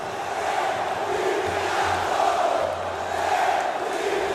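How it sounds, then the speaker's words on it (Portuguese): Vasco da Gama supporters roaring and chanting in the stands at Engenhão after a 3–2 win over Flamengo in the Taça Rio, a dense, sustained crowd din from a distance. "Vibra a torcida Cruz Maltina."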